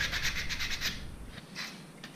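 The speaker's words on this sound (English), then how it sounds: "you just want to give quick sanding on the edges so that you don't have any rough edges" Quick rhythmic scratchy rubbing strokes of 120 grit sandpaper against wood edges, several rapid passes, then a pause and a couple more short strokes, close by.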